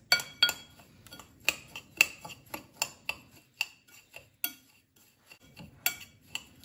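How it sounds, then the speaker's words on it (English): A metal spoon stirs seasoning into crushed Doritos and chicken in a dish, giving a quiet series of irregular clinks and scrapes against the bowl, close up with no talking. "I'm just going to use the same spoon to mix it up"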